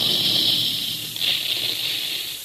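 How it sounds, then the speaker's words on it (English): A Quaker puffing gun at a cereal plant that makes puffed wheat: a loud, steady rushing hiss of steam that swells briefly in the middle, with no talk over it. "Listen to that big gun. That's the sound you hear all day long at the Quaker plants"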